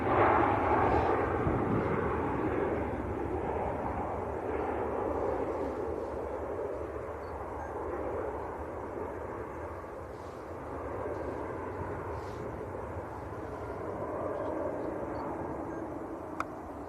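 An Aer Lingus Airbus A320 from Dublin at Manchester Airport produces a broad, steady jet roar that fills the whole stretch, moderately distant and without talk.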